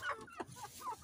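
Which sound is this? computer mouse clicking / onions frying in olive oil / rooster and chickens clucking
rooster and chickens clucking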